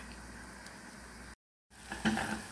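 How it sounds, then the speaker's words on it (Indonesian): Tomato sautéing in a pan gives a faint, low sizzle, cut by a brief silence before the frying noise returns slightly louder with a few soft crackles. "Ini ditumis dulu biar harum ya teman-teman ya"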